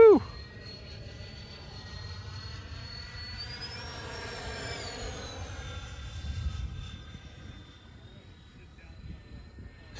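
A Freewing 80mm A-10 radio-controlled jet flies overhead on its maiden flight, its ducted-fan whine holding steady, then rising and falling in pitch as it passes, with a low wind rumble underneath.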